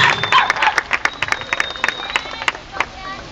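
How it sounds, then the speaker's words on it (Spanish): Scattered, sharp claps from a small audience at a community karate kata demonstration. The individual claps ring out unevenly with some voices around them. "Un aplauso para nuestros niños."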